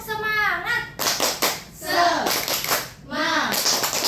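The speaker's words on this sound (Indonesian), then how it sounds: "1, 2, 3. Tepuk semangat." A classroom of children does a rhythmic 'tepuk semangat' group clap, bursts of loud hand claps in sets separated by short pauses, mixed with children's voices chanting along.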